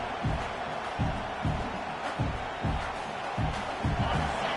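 A roaring stadium crowd in the College Football 26 video game fills the air with dense, continuous noise, swelling in rhythmic rumbling surges like stomping or chanting while a game commentator talks over it.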